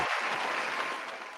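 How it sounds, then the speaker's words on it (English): A brief burst of audience applause at a community meeting, dense, even clapping that tapers off within a second and a half. "Let me give you a round of applause."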